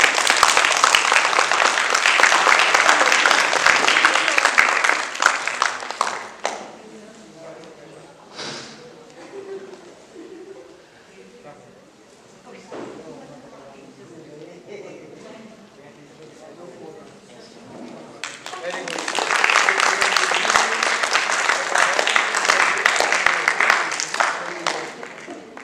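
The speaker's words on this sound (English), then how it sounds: "A huge round of applause, please" Loud applause from a live audience at an event, running for about six seconds at the start, dropping to quieter murmur and movement, then swelling again into sustained clapping near the end.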